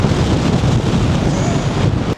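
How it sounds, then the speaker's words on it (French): Strong wind buffets a microphone at an exposed outdoor spot, a loud, continuous roaring rush that cuts off abruptly at the end. "c'est ici l'endroit hardcore du vent en fait"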